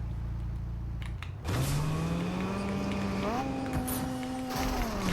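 A McLaren car in the video game Fortnite engine-revs and accelerates, a rising pitched whine after a quieter idle start, holding steady and then stepping up again, loud and close, with a gear-like shift midway.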